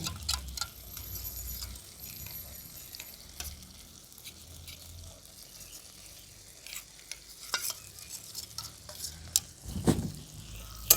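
Ginger and garlic paste fries in a pan as soft, quiet crackling with scattered clicks and scrapes of stirring.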